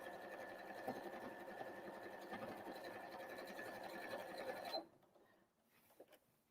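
A sewing machine stitches a Christmas tree napkin in a steady, close whirring run that stops abruptly near the end, leaving a quiet room with a few faint handling clicks.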